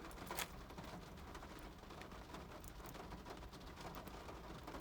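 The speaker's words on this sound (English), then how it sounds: "Yeah, it's raining." Rain falls outside in Tennessee, a steady soft hiss of drops with one sharper spatter near the start and no speech.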